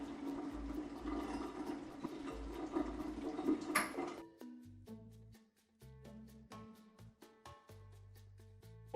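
Boiling water tap on a QETTLE unit running water out until it turns cold: a dense, steady hiss and gush of flowing water for about four seconds, then sparse clinks and drips once the flow stops, with no talk.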